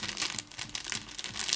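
Plastic Ziploc-style sample bags being handled, giving a close, continuous crinkling rustle with small bursts and crackles throughout, no talking over it.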